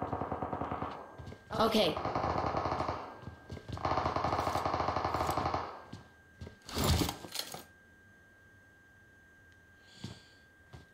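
Automatic weapon fire in the PUBG Mobile shooter, rapid bursts of gunshots in several long volleys that then fall away to near silence, with a brief spoken word near the end.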